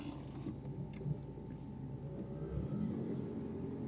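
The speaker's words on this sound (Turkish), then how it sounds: "Şöyle birinci viteste bir kalkalım bakalım." A Fiat Tempra 1.6 MPI station wagon running on LPG pulls away in first gear, its engine a low steady rumble heard from inside the car that swells slightly as it gets moving, with no talk over it.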